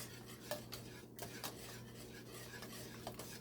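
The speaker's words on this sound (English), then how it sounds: "Yeah, so just keep whisking, folks." A whisk scrapes and clinks steadily around a pot of thick Jamaican peanut and oats porridge, with sharp metallic taps against the rim over a low steady hum, close and alone.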